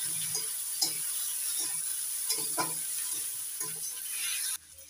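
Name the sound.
frying chopped tomato with ginger garlic paste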